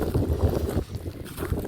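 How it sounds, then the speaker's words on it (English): Gusty wind buffets the microphone with a low rumbling roar, steady and close, briefly easing midway before picking up again. "Sorry if it's windy."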